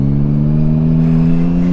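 A motorcycle accelerates, heard close from the passenger seat, its engine note holding a loud, steady rising drone with strong harmonic tones and no voices.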